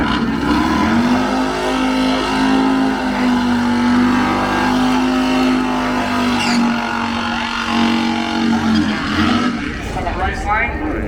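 A Harley Low Rider motorcycle racing at a Summit track championship, its engine droning loud and steady with rising revs throughout while a commentator talks over it.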